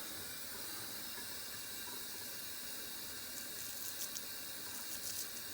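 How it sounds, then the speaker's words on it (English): Hot water runs from a sink tap during a beard-grooming session, a steady faint hiss and wash of flowing water throughout with no voices. "Now I'm going to turn on some hot water over here."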